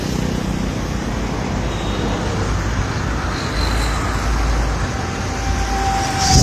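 A car on the road, a steady loud rumble of engine and roadway noise throughout, rising slightly at the end, with no talking.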